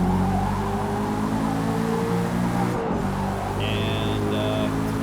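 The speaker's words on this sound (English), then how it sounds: "driving this beautiful Carrera, but look at this thing, how it handles." Porsche Carrera sliding loosely through a corner in Forza Motorsport, a steady engine drone with a brief tire squeal late on, heard close and continuous with no talk.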